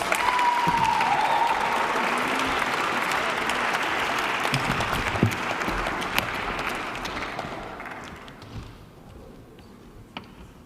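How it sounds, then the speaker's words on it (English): An audience at a school awards ceremony gives a long round of applause for award winners, dense clapping that holds strong and then thins into scattered claps before fading out. "You can give them a round of applause."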